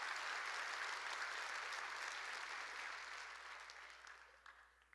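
A church congregation claps in a sustained wave of applause, dense and steady at first, then gradually thinning and fading out toward the end; fairly distant and soft, with no clear talk.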